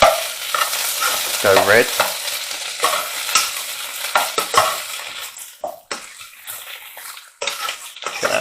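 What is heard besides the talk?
stirring vegetables frying in a pot for tomato soup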